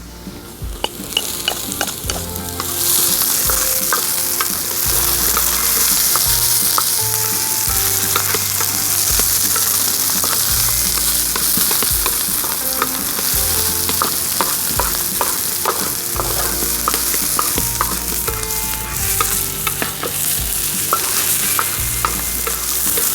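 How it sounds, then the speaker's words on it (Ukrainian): Onions fry in a pan over a campfire, a loud, steady sizzle with occasional stirring scrapes and clinks, continuous and close throughout without any talking. "Цибульку обсмажуємо до золотистого кольору."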